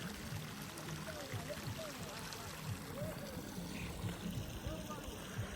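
Water flows out steadily in Suru Valley, Ladakh, as a faint continuous rushing wash with soft murmuring voices low beneath it.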